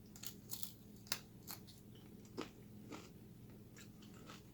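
Crispy candied bacon made with brown sugar is bitten and chewed close to the mic, giving several sharp crunchy snaps followed by softer chewing, quiet and without talking.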